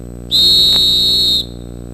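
A single loud, steady search-and-rescue whistle blast sounded by a search team along a trail, lasting about a second with no talk around it.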